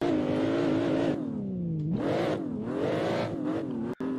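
BMW M3 E36 drift car revving hard on a Japanese track after a clutch kick, the engine note dropping then surging back up in loud, sustained acceleration close by.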